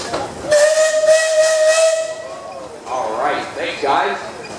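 A steam engine whistle at a parade sounds one clear, steady tone for about two seconds with a hiss of steam, then people talk nearby.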